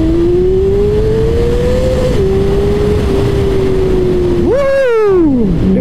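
A Honda CBR 600RR sport motorcycle engine holds a steady, loud high-pitched whine, then blips sharply upward and drops back with a quick rev near the end, close and alone with no talk.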